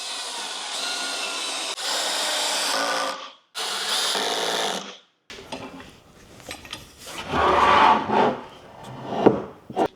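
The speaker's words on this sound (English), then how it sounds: "so we're going to screw this side down" Screws are driven into the side of a wooden pocket-hole nightstand: two long, loud whirring drill bursts, then quieter clattering and handling knocks.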